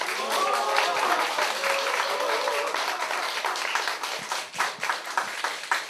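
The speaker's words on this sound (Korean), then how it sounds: "큰 박수 부탁드리겠습니다." Applause from an audience at a Progressive Party (Jinbo Sindang) leadership election rally in Korea, welcoming a party leader candidate; steady dense clapping fills the clip with some voices mixed in, thinning toward the end.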